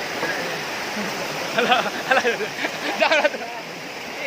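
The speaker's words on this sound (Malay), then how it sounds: "Itu guys, air terjunnya." Steady rushing water of a hidden jungle waterfall in South Aceh, heard up close as a constant wash beneath a few short bursts of nearby voices.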